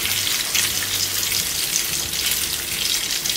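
Bluefish (sarıkanat) fries in a pan with a steady, close crackling sizzle that carries on evenly throughout, with no voices.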